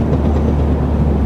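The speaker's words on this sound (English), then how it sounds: "what are they called, steam engine." A steam locomotive rumbles past close by, a loud steady roar with a low continuous drone and faint rhythmic clatter of the wheels.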